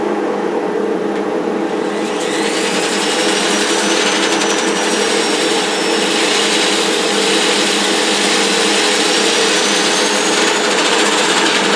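Wood lathe spinning a yarn bowl blank at slow speed, a loud continuous whir with a faint rising whine, steady throughout with no talking.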